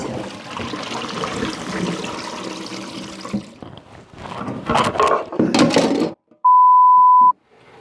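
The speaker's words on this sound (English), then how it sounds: "drain this saltwater brine off and then cover it with boiling water" Saltwater pickle brine splashes and trickles into a sink, followed by a brief pouring gush of boiling water, then a single steady electronic beep.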